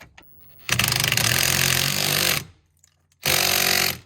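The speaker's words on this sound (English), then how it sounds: "make sure don't just start hitting it with the gun or whatever" An impact gun drives a bolt on a car's steering wheel during a carbon fiber steering wheel install, firing in two loud rattling bursts, the first about two seconds long, then a brief pause and a shorter second burst.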